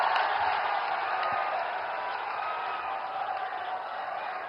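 An audience at an Uttar Pradesh foundation-stone ceremony with Prime Minister Narendra Modi, clapping steadily throughout as a dense, even patter of applause that sounds somewhat distant and fades slightly toward the end.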